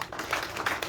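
Audience applause at a political launch event in Uganda, a short stretch of dense, scattered clapping that sounds moderately loud and continuous, with no speech over it.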